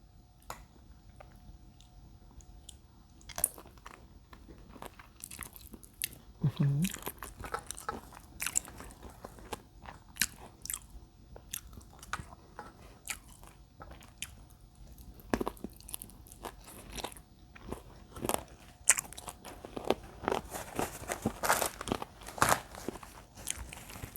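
Chicken feet cooked in curry are gnawed and chewed up close, with irregular crunches, wet squishy bites and crackles repeating throughout and some louder sharp snaps.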